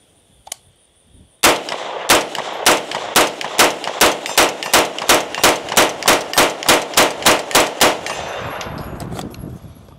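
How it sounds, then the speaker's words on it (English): 9mm rounds fire from a Magpul T-Mag conversion: after a single metallic click, a rapid, loud, evenly spaced string of about twenty close shots rings out, then fades into a lingering ring and ambient noise. "Does the 9mm conversion internals work in the new Magpul T-Mag?"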